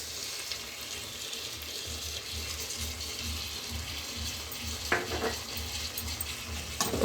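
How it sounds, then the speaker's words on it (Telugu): Curd and spices are stirred into a semiya chicken biryani mixture in a pan. A low, steady wet churning runs throughout, with a few soft knocks of the spoon against the pan near the end. No one speaks. "ఒకసారి మిక్స్ చేసుకుందాం."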